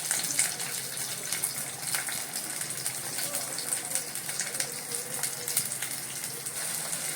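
Chopped onions frying in a pan for a Telugu pesarpappu fry, a steady close hiss and crackle of sizzling oil running without a break throughout.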